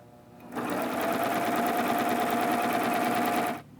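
A serger sews ruffles with decorative thread in one continuous, loud, rapid mechanical run of about three seconds, starting and stopping abruptly.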